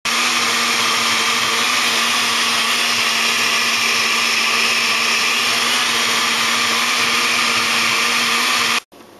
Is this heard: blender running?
yes